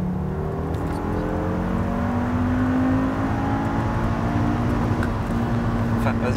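An ethanol-fuelled Audi RS3 engine revs hard during a launch test, its loud, steady drone rising in pitch throughout, with no break.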